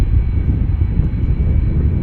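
An 11-year-old Airbus A330-300 jet departing Amsterdam Schiphol, producing a steady, loud, broad engine roar that holds constant throughout with no voices.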